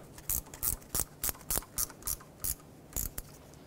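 Ratchet wrench tightening starter bolts on a 2012-2020 Ford Focus, giving about ten sharp, evenly spaced clicking bursts close to the microphone, with no talk.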